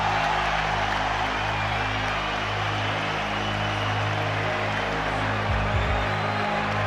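Packed boxing arena crowd at the Pacquiao vs Cotto fight, a dense continuous roar of cheering and shouting that stays loud and steady throughout, with a commentator's voice faintly mixed in.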